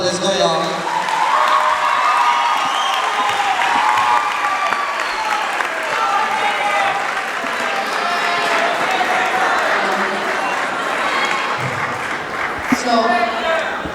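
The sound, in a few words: audience applause and cheering for Kadian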